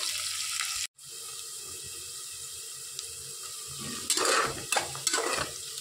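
Onion frying in a pan for chicken donne biryani: a steady broadband hiss runs throughout, briefly cut off near the start, then a few louder scraping stirs toward the end.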